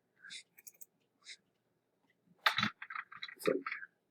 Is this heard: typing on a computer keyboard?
yes